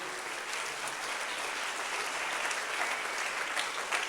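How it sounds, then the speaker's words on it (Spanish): A church congregation claps loudly and steadily for the Lord during a sermon, dense sustained applause from many hands filling the room for about four seconds with no break. "Dale una ofrenda de palmas fuerte al Señor"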